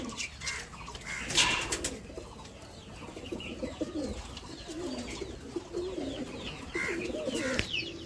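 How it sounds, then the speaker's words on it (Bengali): Shahjahanpuri Giribaz pigeons coo in a loft in repeated soft, low, throaty rolls, close and steady, with a brief burst of louder noise near the start. "এটা শাহজাহানপুরি গিরিবাজ পায়রা আছে, গ্যাদাশিরা পায়রা"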